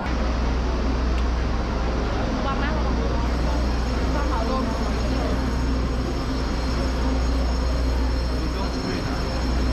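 A train pulling into a station in Taiwan on the line toward Taipei, a steady loud rumble of rolling cars and rail noise filling the scene throughout, with people talking faintly in the background.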